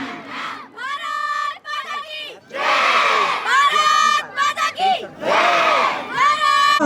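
Schoolchildren at a Kendriya Vidyalaya annual day celebration in Narayanpur shout a chanted patriotic response together, several loud unison bursts separated by brief gaps, ringing and close.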